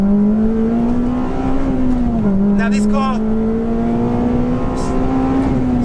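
A Honda FD2 Civic Type R with a naturally aspirated four-cylinder engine accelerates hard, its steady rising engine note continuous and close, with someone talking over it.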